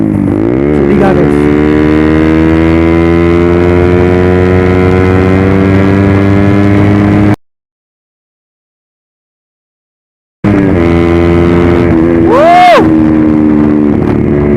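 A loud Suzuki GSX-R150 sport motorcycle engine revs up and holds at high pitch, cuts out briefly, then roars again with a sharp rising rev.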